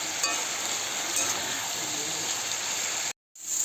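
A pot of vegetable khichuri with salt and turmeric being stirred on the stove, giving a dense, steady sizzling hiss with faint scraping, close and continuous before a brief drop to silence near the end.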